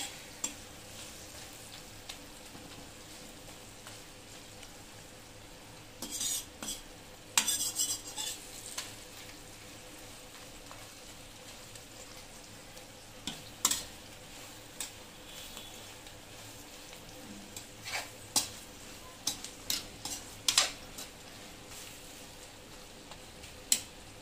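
Green chilli pickle frying in a pan while being stirred, with faint steady sizzle underneath and scattered clinks and scrapes of a spoon against the metal pan, no talking.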